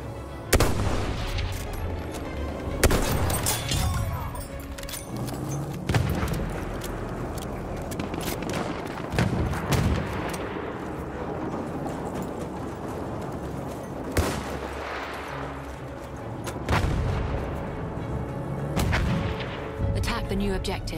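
Artillery barrage in the Battlefield 1 open beta Rush mode, with repeated loud booming blasts and crackling gunfire across the battlefield, heavy impacts recurring every few seconds over continuous combat noise, with faint voices underneath.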